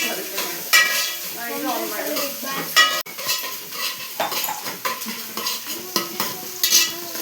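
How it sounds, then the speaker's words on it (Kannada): Onions fry in a pan for a chicken liver gravy while a utensil stirs and scrapes against the metal, with clinks and knocks over a light sizzle and faint background voices. "ಅಲ್ಲಿ ತನಕ ಈರುಳ್ಳಿನ ಫ್ರೈ ಮಾಡ್ಕೊಂಬಿಡೋಣ"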